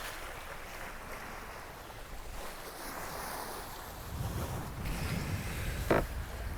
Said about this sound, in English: You can see water's leaving the transom nicely there.